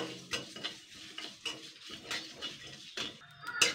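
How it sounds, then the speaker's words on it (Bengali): Cumin and coriander seeds dry-roasting in a pan for aloo kabli, with small crackles and pops alongside scraping stirring strokes at an uneven rhythm, close and quiet. "তো দেখুন জিরেগুলো কীরকম ফাটছে আর ধনিয়াটা"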